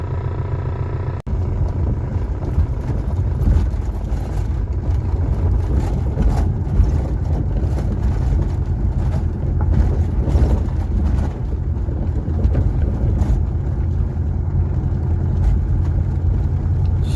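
Car descending a steep mountain road into a valley during a flood, a steady loud engine and road rumble with wind buffeting, continuous throughout with no talking.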